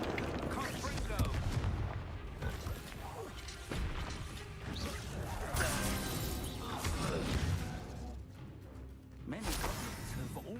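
Confringo blasting spells explode in Hogwarts Legacy combat: repeated booming blasts, crashes and crackling debris fill a dense, continuous battle mix, with voices speaking in places.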